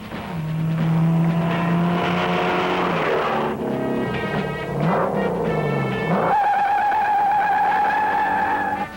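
A 1968 Shelby Mustang GT500 KR accelerates hard on a test run, its engine note climbing loud and close, dropping at gear changes and rising again in a sustained roar.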